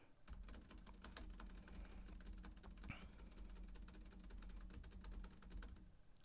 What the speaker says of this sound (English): This is a test for tapping on the keyboard.